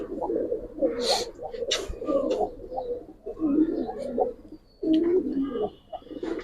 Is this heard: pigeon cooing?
yes